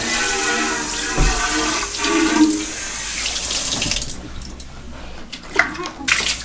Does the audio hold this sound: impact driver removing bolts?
no